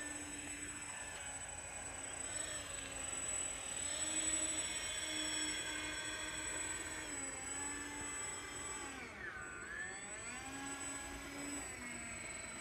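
An XRP Boeing 737 Max 9 model jet taxis on the ground, giving a steady, fairly faint turbine whine whose pitch sweeps and wavers as it rolls along.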